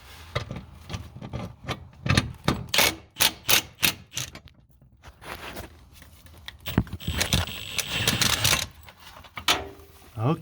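Removing the last transmission crossmember bolt under a Subaru Outback with an air or impact tool: a series of sharp rattling bursts and clacks, close and fairly loud, with short pauses between them and some rattling of loosened metal.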